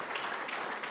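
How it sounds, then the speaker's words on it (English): A brief burst of audience applause at a Pro Football Hall of Fame charity event thanking volunteers, a soft, even patter of many hands that is fairly faint and short. "Let's first to give them a round of applause for all the help that they've been doing today"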